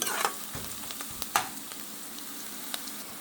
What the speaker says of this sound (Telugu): మనం ఒక రెబ్బ కరివేపాకు కూడా వేసుకుందాం